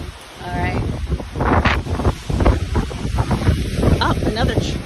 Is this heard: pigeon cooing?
no